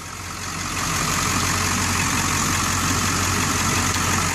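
A 2002 Ford F350 dually truck's 7.3 Power Stroke diesel engine idles steadily up close, a deep, even rumble with a slight rattle that swells in over the first second and holds constant.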